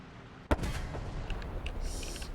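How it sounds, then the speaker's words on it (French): A tank cannon fires once in a tank video game match, producing a sharp, loud blast followed by rumbling battle noise and fainter distant shots. "Oh, Zetrox qui a pris un gros shoot de tourelle"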